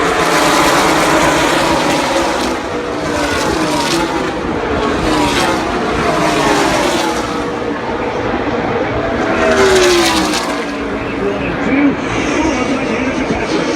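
Race cars at the Daytona 500 roar past in a loud, continuous wash of engine noise with swelling passes, while a commentator talks over it.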